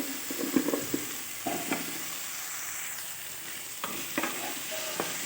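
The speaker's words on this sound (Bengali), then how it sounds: "আলুটা ভালো করে কষিয়ে নিতে হবে এর সঙ্গে" Cut potatoes frying in a softened tomato spice masala for a paneer dish, with irregular spoon scrapes and stirring knocks over a faint hissing sizzle, close up and moderately quiet.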